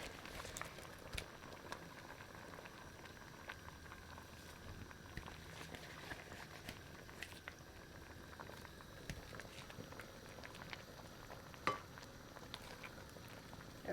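Pot of prawn sinigang soup at a steady boil, a continuous soft bubbling and patter that stays fairly quiet and even throughout, with a few small clinks near the end.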